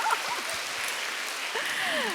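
Congregation applause during a Wednesday worship service at a church, a steady wash of many hands clapping at moderate distance, with faint voices talking underneath.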